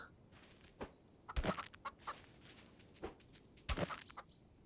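Chickens cluck in a few scattered, soft bursts over quiet background noise, with two slightly louder clusters of calls, faint and fairly distant.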